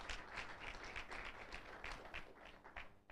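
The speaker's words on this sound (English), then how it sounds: "let's give her a round of applause" Panel audience at a business conversation event applauds a woman panelist: a steady, fairly faint wash of many hands clapping, dense and even for the whole stretch with no voices standing out.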